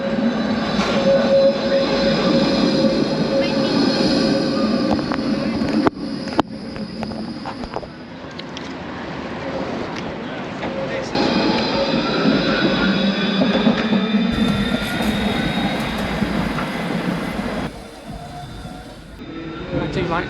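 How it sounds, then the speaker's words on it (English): A tram pulls in and travels on, with a steady rumble of wheels and motor, a brief squeal and clunks, all fairly close and continuous over about twenty seconds. "Here comes my tram."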